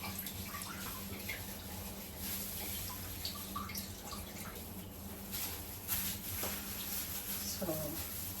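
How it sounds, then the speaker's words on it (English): Frozen pangasius fillet rinsed under a running kitchen tap, a steady close hiss of flowing water with faint splashes and drips, continuing throughout with a little background noise. "I might give it a bit of rinsing just to get rid of the ice."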